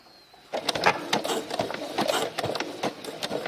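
A domestic sewing machine runs a simple zigzag stitch, sewing new elastic onto a cloth nappy, with a steady rattling whir starting after a short quiet moment and continuing close up.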